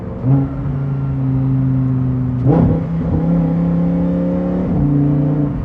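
A Lamborghini Huracán STO engine hums steadily at idle-like pitch, with two sharp blips of revving and gear-like shifts, close up and continuous.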